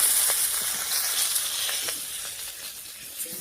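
Magur fish fries lightly in hot oil in a home kitchen, giving a steady close sizzle with soft spattering crackles that gradually eases, heard alone without talk.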